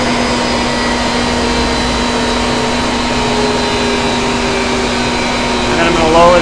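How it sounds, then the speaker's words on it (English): A woodworking machine with an in-feed table, switched off after a board jams, drones with a steady loud hum whose pitch slowly sinks as it spins down over several seconds. "I'm gonna turn the machine off. I'm gonna wait till that machine is totally stopped."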